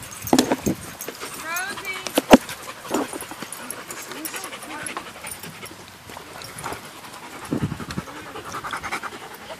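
A four-month-old puppy pants steadily and close by, with soft whimpers and a jangle of keys, while people talk over it at a dog breeder's.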